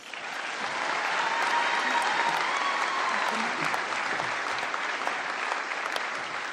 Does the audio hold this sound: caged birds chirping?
no